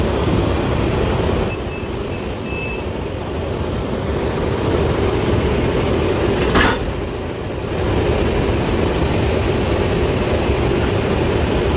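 Steady rumble of a train at rest with a sharp metallic clank partway through, like a locomotive coupling onto the cars, plus faint high squeals.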